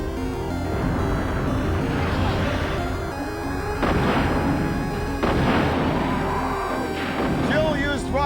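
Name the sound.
rocket launcher firing in video game Resident Evil 3: Nemesis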